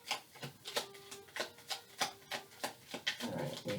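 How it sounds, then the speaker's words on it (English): Tarot cards being shuffled by hand, a quick series of crisp riffling and snapping bursts, close and fairly quiet, ending in a longer rustle. "One more shuffle here."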